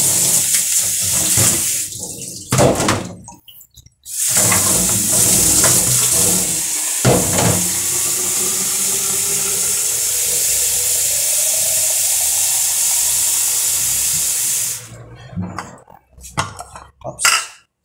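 Tap water runs steadily into a sink as a loud continuous hiss for most of the clip, framed at the start and end by clattering kitchen handling sounds and brief gaps.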